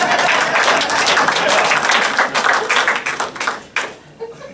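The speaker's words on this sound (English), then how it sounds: "That's a weird reaction to clap." A stand-up comedy audience at Penguin's bursts into loud, dense applause and clapping that holds steady, then thins and fades toward the end, with no voices heard.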